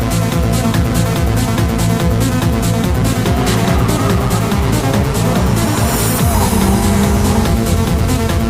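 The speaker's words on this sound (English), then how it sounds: "First up is Jensen Kona in his silver S13" A silver Nissan S13 drift car at a drift competition screams past at full throttle, with a loud, constant engine roar and continuous tire squeal that swells toward the end.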